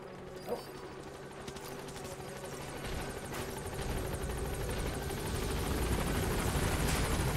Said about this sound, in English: Where's the chopper? Ah, it's coming.